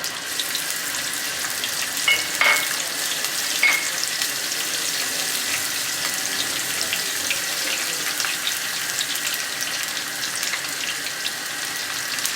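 Finely chopped garlic fries in oil in a karahi, giving a soft, steady sizzle with a couple of faint metallic clicks, no talking heard.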